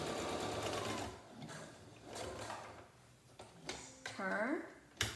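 A sewing machine stitches elastic onto the corner of a fabric face mask, a rapid mechanical whir in short bursts with pauses, a brief rising whine near the end.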